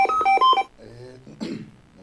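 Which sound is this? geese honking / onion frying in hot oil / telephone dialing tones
telephone dialing tones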